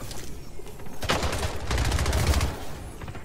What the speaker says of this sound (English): It's the railgun, dude.